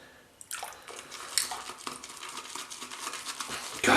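Shaving brush dipped and swished in water, giving close, continuous splashing and sloshing with small drips for several seconds and a louder splash at the end.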